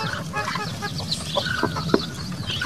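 Chickens and newly hatched chicks cluck and peep close by while pecking at feed, a busy overlapping chatter of soft clucks and high cheeps with one sharper call near the end.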